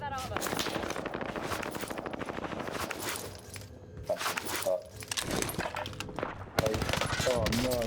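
Automatic gunfire crackles through a multiplayer shooter video game in rapid repeated bursts with short gaps, while players talk over the shooting.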